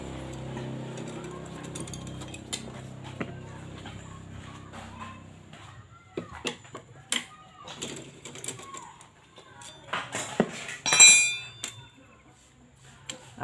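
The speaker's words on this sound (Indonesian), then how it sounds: "Ini injektornya kita buka dulu. Ini ya, bagian sini. Ini baut 10. Kunci 10 ya." A 10 mm wrench ratchets on a bolt while the fuel injector of a Honda Beat ESP scooter is unbolted, with rapid close clicking bursts, metallic clanks and tool handling.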